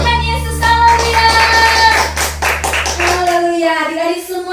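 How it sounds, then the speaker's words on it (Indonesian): Children's hands clap together at a Sunday school worship service, a rhythmic burst over sung music that fades after a few seconds as a voice carries on. "tepuk tangan yang paling keras buat Tuhan Yesus"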